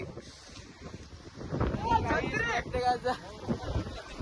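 Wind gusting across the microphone in hilly Lonavala, a steady blustery rumble that comes up stronger partway through, with a person talking over it.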